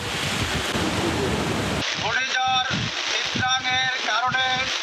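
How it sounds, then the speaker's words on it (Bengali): Rough sea and strong stormy wind with rain roar as a dense, steady rush before an approaching cyclone on the coast, then a voice talks over the continuing blustery noise. "উত্তাল সাগর, বৃষ্টির সঙ্গে বইছে তীব্র ঝড়ো হাওয়া"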